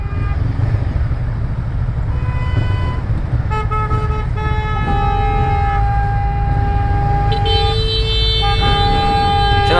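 Several vehicle horns honk in overlapping, sustained blasts over steady traffic and engine noise, some held for seconds at a time.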